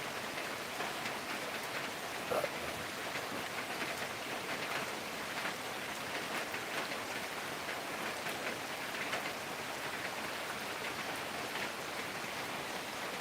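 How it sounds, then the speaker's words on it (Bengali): Steady rain falls and patters on surfaces after a long dry spell, a dense, even hiss that holds constant throughout with no talk. "আজকের বৃষ্টি দেখে মহা আনন্দিত।"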